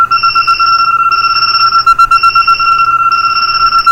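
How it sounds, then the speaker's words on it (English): Several Windows mobile phones sound their alarms at once, loud electronic beeping tones repeating in quick regular pulses with brief gaps, close and continuous, with no talking. "And a bunch of alarms go off."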